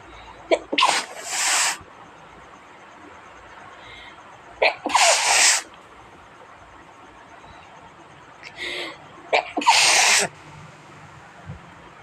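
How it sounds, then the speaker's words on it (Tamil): Three loud, sharp sneezes spaced a few seconds apart, each with a quick intake of breath just before it, set off by nasal drops in a home remedy, heard alone in a quiet room. "மூக்கில் விடும்போது நமக்கு தும்மல் வரும்."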